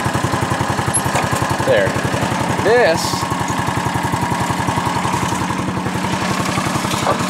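A sand rake machine's engine runs steadily with a rapid, even chugging throughout, close and loud, while someone speaks briefly over it.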